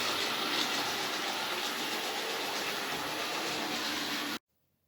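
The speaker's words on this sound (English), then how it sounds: "now I'm going to run some more trains" A steady, dense rushing rattle of a Triang model train running on track, continuing evenly before cutting off abruptly near the end.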